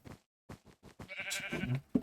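A Minecraft sheep gives a short, close bleat amid brief clicking and game noises, fairly quiet overall.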